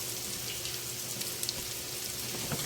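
Garlic, onions and ginger fry steadily in a pan, giving a continuous close sizzle with small crackles throughout and no voices.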